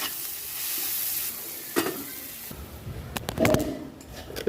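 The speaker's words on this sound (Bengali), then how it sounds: "একটু পেঁয়াজটাকে একটু নাড়িয়ে নেবো কিছু 1 মিনিট" Salted onions frying in a pan, a soft steady sizzle at first, then a burst of clattering scrapes and stirring strokes near the end, close and moderately loud, with no one speaking.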